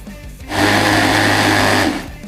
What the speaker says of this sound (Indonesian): Nah ini udah kita blender nih teman-teman.